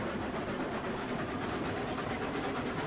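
A train in the Railroads Online video game runs along its tracks toward a lumber camp, a steady, continuous rumble with faint rhythmic clatter and hiss, heard alone without talk.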